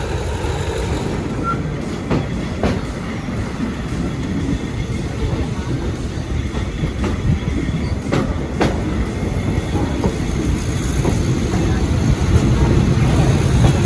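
Train crossing the preserved original wooden bridge of the Death Railway at Kanchanaburi, Thailand, a continuous loud rumble with rhythmic wheel clatter from onboard, building slightly toward the end, with faint talk underneath.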